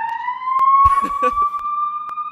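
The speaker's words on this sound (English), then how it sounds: "Goddamn ambulances and such." A wailing ambulance siren passes by outdoors, its steady rising tone sweeping loudly through the scene with rhythmic pulses, while a voice briefly talks over it.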